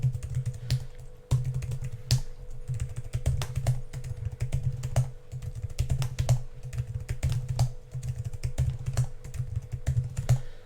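A computer keyboard is tapped in quick irregular bursts to enter a password during an Elastic stack security setup. The keystrokes are close and crisp, with brief pauses between runs.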